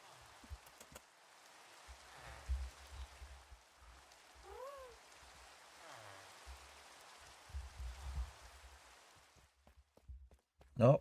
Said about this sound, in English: See if we can get rid of this rain.